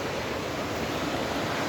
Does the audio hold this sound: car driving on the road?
no